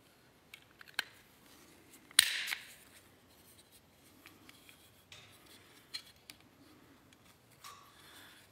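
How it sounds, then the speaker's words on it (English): Small paper punches cut shapes out of kiln paper for fused glass work, giving sharp close clicks and crunches scattered across the moment, one louder crunchy punch standing out near the start. "And these are just little paper punches."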